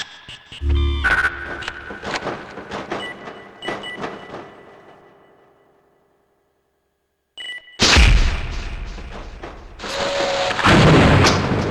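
Grenade launcher explosions in the video game Gunman Chronicles: a burst of booming blasts and clattering impacts that fades into near silence, then a second, louder run of heavy explosions and rumbling debris.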